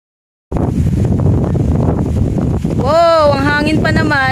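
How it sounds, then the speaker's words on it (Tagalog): Heavy wind gusts roar against the microphone on Kaminawis Hills, with a voice sounding briefly through the blustery noise near the end. "Wow, ang hangin pa naman."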